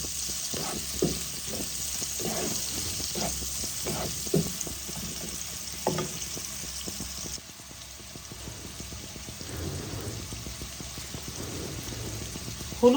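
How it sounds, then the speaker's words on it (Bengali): Onions with whole cumin seeds frying in hot oil for a Bengali stuffed pointed gourd dish, a steady sizzle with brief stirring scrapes. The sizzle quiets partway through and then picks up again. "তেলের মধ্যে আমি গোটা জিরা ফোড়ন দিয়ে পেঁয়াজগুলোকে ছেড়ে দিলাম।"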